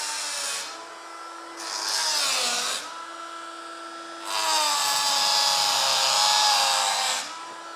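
A Dremel rotary tool grinds and cuts into a car body panel on a rare Audi TT Open Sky concept, giving a high whining buzz in several bursts that rise and dip in pitch as the cut catches, close and loud with no talk.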